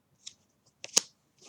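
Tarot cards being shuffled by hand: a few short, papery riffling bursts separated by quiet gaps, close and fairly soft, with no talking.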